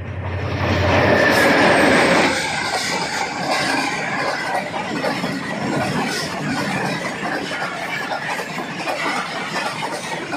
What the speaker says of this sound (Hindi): ये थी सर सैयद एक्सप्रेस रावलपिंडी से बरासा वज़ीराबाद, फैसलाबाद, हाफ़साबाद आकर कराची जाने के लिए और मेहरापुर के स्टेशन से नॉन स्टॉप गुजरते हुए